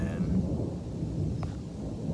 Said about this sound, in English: now the storm is rolling in